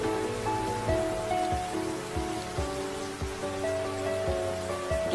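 Steady rain falls as a dense, even hiss, with soft low thumps recurring about once a second under a sustained tonal background.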